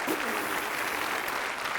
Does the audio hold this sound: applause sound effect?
yes